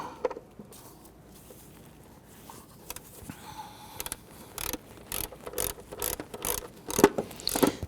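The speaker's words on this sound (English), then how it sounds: "We're going to use a shallow 10mm" A hand ratchet with a shallow 10mm socket clicks away at a timing cover bolt on a 1992-1996 Toyota Camry 2.2L four-cylinder, with soft, quick pawl clicks in short bursts and tool knocks near the end.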